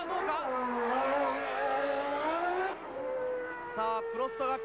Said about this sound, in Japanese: さあプロストがピットアウトしていきます。